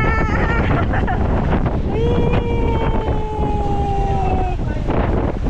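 Strong wind roars into the microphone over crashing surf at Patar Beach, Bolinao, Pangasinan, while a voice calls out in the middle.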